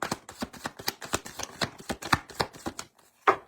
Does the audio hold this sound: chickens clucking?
no